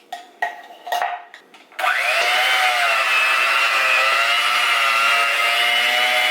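An electric mixer beats a sweetened condensed milk mixture for banana pudding. A few clattering knocks come first, then the motor starts and whines loudly and steadily, close up, with no talking.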